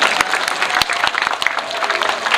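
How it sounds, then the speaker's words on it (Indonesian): Applause from an outdoor religious gathering in an Indonesian village, marking a cooperative's anniversary, a dense burst of hand clapping with some crowd noise and sharp individual claps over steady chatter. "tepuk tangan untuk kebersamaan kita"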